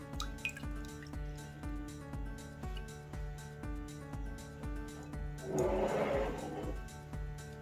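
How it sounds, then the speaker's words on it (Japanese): Washed azuki beans drain in a strainer, water dripping in a steady rhythmic patter close by, with a brief rush of trickling liquid partway through. "2回ほど洗ったらしっかりと水を切っていきます。"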